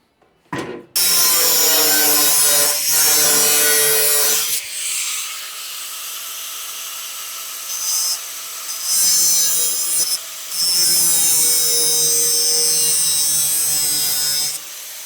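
A power cutting tool slices through the steel bed sides of a 1965 Chevrolet C10 pickup, a loud harsh grinding screech in long sustained passes with brief pauses between cuts.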